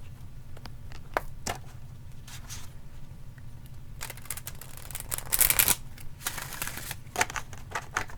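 Tarot cards being handled and shuffled up close, a series of crisp riffling and slapping card sounds, some sharp taps, growing busier and louder toward the end, with no talking.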